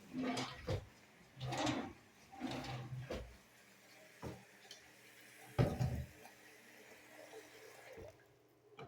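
Drawers in a house are pulled open and pushed shut several times, giving soft wooden thuds and sliding scrapes in a quiet room, with irregular gaps between movements.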